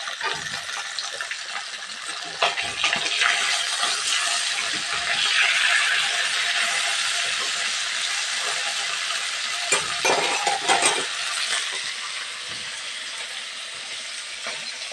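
Dal and a masala spice paste cooking side by side in pans, a continuous sizzle with frequent scraping and stirring strokes, close and fairly loud, without talking.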